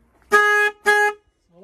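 Two short, loud dual car horn blasts with a rich, chord-like tone, separated by a brief gap, in an otherwise quiet setting; the horn is faulty and does not sound at first.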